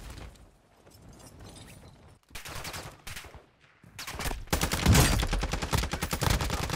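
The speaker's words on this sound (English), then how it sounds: "Oh, I'm getting sniped." Sniper gunfire in the Call of Duty DMZ video game: bursts of shots and impacts build from quieter sporadic cracks into a loud, dense barrage in the second half, with no talking.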